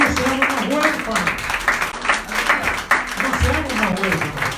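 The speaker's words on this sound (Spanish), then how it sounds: "Demos un fuerte aplauso al Señor." A church congregation claps in praise, a dense, uneven burst of many hands under and between a voice, steady and moderately loud throughout.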